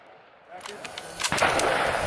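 AK rifle fire on a stage of a difficult AK-only shooting match, with a few sharp, loud reports in quick succession over outdoor noise and a little voice in the background.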